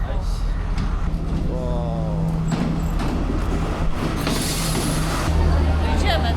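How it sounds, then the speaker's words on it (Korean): A train pulls into a railway station in Sri Lanka with a steady low rumble and rolling wheel noise, while a busy crowd on the platform chatters and people talk close by throughout. "기차가 들어옵니다."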